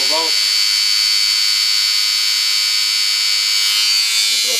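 The electric motor of a rotary transformer runs steadily on a 13.4-volt battery supply, giving a loud, constant high-pitched whine with an even hum throughout.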